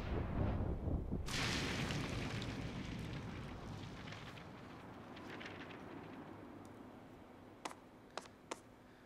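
A Bob-omb explodes in the video game Paper Mario: The Origami King, a sudden loud blast followed by a long rumbling decay that fades, then a few sharp clicks.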